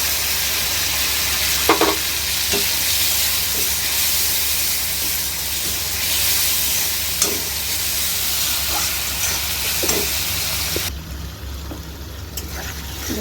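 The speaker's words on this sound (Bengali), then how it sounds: "একটু মশলাটা কষে গেছে" Spice paste for a rohu fish curry fries in a pan, a loud continuous hissing sizzle with occasional stirring knocks, easing and thinning near the end, with no talking.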